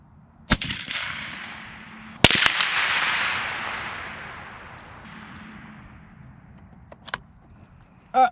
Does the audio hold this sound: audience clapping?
no